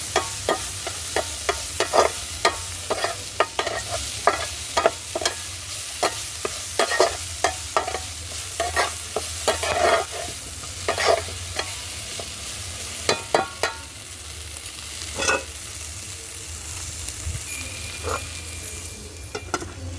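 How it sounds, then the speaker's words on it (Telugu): Yardlong beans stir-frying in a pan over a wood-fired stove, a continuous sizzle with frequent sharp scraping strokes of the spatula in an irregular rhythm, close and fairly loud. "అలసందలకాయలు ఫ్రై రెడీ అయింది"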